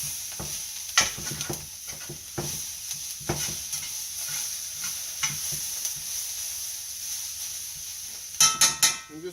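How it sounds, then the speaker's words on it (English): Cherry tomatoes and enoki mushrooms are stirred in a hot frying pan, with a steady sizzle under irregular scrapes of a spatula against the pan and a quick burst of clinks near the end. "And let's stir this, give this a nice quick stir."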